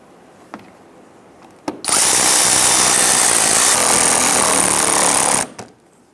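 An impact power tool tightens front bumper bracket bolts on a 2011-2019 Ford Explorer, one loud continuous rattling burst of about three and a half seconds after a few light clicks, ending abruptly.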